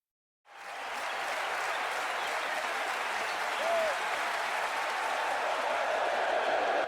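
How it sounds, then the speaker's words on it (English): A crowd at a Mongol wrestling challenge roars in sustained, dense noise that swells in quickly and holds steady at a loud level throughout, with no individual voices standing out. "The crowd erupts."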